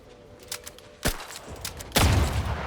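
Two loud, widely spaced gunshots from a slow-firing gun in the video game The Outer Worlds 2. Each is a sharp, full-bodied blast with a short lingering tail over a quiet background.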